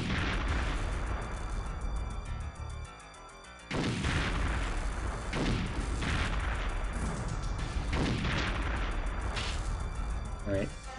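Grenade explosions from the Perfect Dark Area 51 Escape mission go off one after another as loud, heavy booms, several of them in quick succession over continuous game noise.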